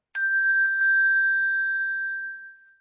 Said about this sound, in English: If I ring the bell and don't move it, it's going to die very quickly.